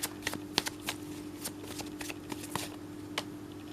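Tarot cards are shuffled and handled in a close, soft series of papery flicks and taps with uneven rhythm, alone with no talking.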